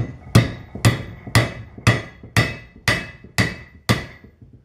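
A hammer strikes metal on an anvil in eight evenly spaced, ringing blows about half a second apart, each loud and close with a short metallic decay.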